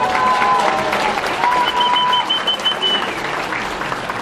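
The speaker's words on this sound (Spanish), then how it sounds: "pido lo recibamos con un caluroso aplauso." Warm, sustained applause rises from an audience at a formal education panel in Mexico as a speaker is welcomed. The clapping is steady and loud, and faint high electronic tones sound briefly over it.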